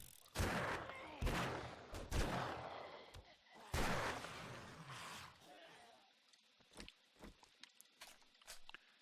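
Gunfire in the 7 Days to Die survival game, a handful of sharp, loud shots in irregular bursts, followed by quieter scattered clicks and thuds.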